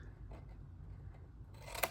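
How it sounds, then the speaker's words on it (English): Scissors cut through a cardboard box along its long-side score line, a close, steady rasp that builds toward a sharper snip at the end, with no one speaking. "all we're gonna do is cut up the long side score line."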